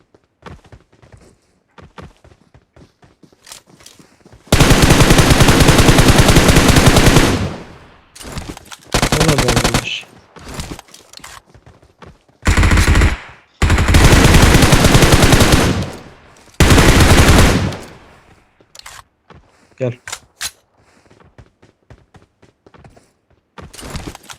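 Automatic gunfire in the mobile battle royale game PUBG Mobile, several loud sustained bursts of rapid fire separated by short gaps, with softer footsteps and small clicks in between, no talking.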